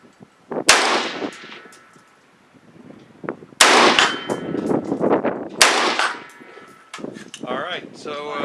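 A Springfield Armory Saint rifle fires Fiocchi ammunition from an Amen magazine: two or three sharp, loud reports with metallic ringing, spaced a few seconds apart, followed by clatter and handling noise.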